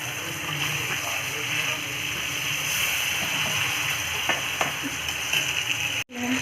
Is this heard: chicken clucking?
no